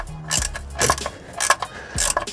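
A ratchet wrench does up a new sump plug during a car oil change, giving a few short bursts of metallic clicking with brief pauses between them, close and fairly loud.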